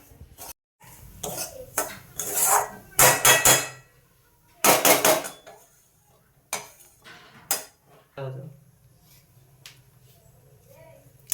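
Semolina roasting in ghee in a pan, a spoon scraping and clinking against the metal in irregular bursts of stirring, with a faint background hum between strokes.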